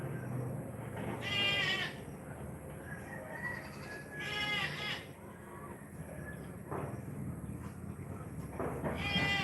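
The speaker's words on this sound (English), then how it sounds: "Yeah, you can hear the goats down there" Goats bleat repeatedly on a farm in the Philippines, several distinct calls at moderate distance rising over a steady outdoor background, with no talk.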